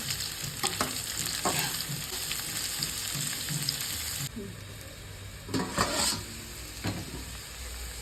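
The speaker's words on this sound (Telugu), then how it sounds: "ఇప్పుడు గ్యాస్ సన్నగా పెట్టి దీన్ని ఫ్రై చేసుకుందాం" Bitter gourd fries in a pan on a low gas flame, a soft continuous sizzle broken by spoon scrapes and stirring clatter, and it grows briefly louder near the end.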